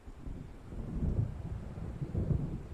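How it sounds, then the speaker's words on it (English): Thunderstorm in the video game Alan Wake, a low, rolling rumble of thunder swelling and fading with steady rain and wind hiss underneath, moderately faint and without talk. "seems there's a storm coming"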